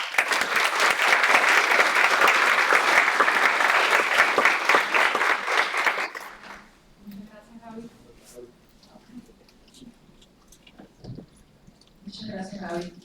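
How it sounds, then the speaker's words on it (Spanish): Sustained, dense applause from a conference audience welcoming two speakers fills the first six seconds, then fades into scattered claps and murmuring voices of the crowd settling in the hall. "les pido que recibamos con un cálido aplauso a la doctora Alieti Sosa y al doctor Federico"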